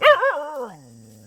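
A dog reacting to fish in the water lets out one loud, close bark that stretches into a falling, howl-like whine, heard alone without any speech.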